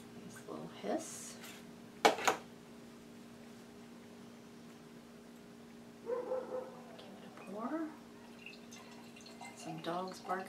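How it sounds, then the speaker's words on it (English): Dogs barking in the distance outside, a few faint scattered yaps and short bursts separated by quiet stretches, coming from neighbours out walking their dogs. "Some dogs barking in the background, neighbors out walking the dogs"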